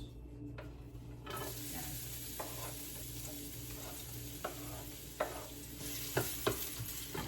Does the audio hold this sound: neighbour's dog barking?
no